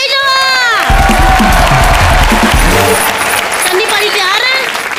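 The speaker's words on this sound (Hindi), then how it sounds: "जोरदार तालियां" Loud applause and cheering burst from a TV comedy show studio audience, swelling quickly and staying strong with shouts mixed in while a voice talks over it.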